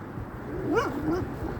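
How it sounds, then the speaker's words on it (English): A puppy behind a fence lets out a few short rising yips and whimpers, fairly close and moderately loud, over a quiet outdoor background. "There's a puppy on the other side of this fence."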